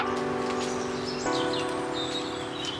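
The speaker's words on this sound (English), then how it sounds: "I'm walking here, listening to the birds" Birds sing outdoors along a walking path, with scattered high chirps and short whistled phrases over a steady background hum, moderately distant and with no talking.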